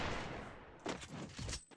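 Rapid gunfire bursts from a weapon in the battle royale game Free Fire, several close, dense shots rattling in quick succession over a continuous noisy game backdrop.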